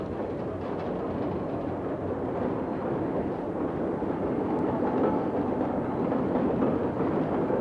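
A model railway train runs steadily along the track of a scale layout. The rumble is dense and continuous with a faint clickety-clack, and no one talks over it.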